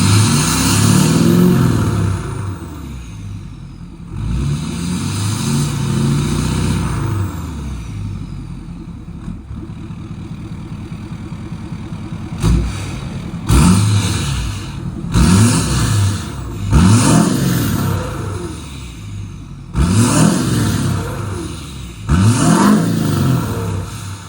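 Ford F250 diesel pickup engine revved repeatedly, loud throttle blips climbing and falling in pitch, separated by rough idle stretches, with a cluster of quick rev bursts toward the end.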